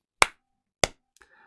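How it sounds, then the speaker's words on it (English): Three sharp, close hand claps ring out at a steady quarter-note pulse, evenly spaced and loud against silence, with a faint short tone sounding between the last two. "I'm going to clap the beat, the main pulse, which coincidentally is also going to be a quarter note."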